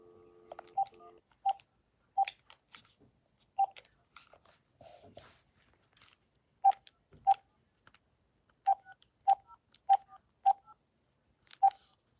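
Telephone keypad dialing tones: about a dozen short, clear beeps in uneven groups over a near-silent background, with faint clicks between presses.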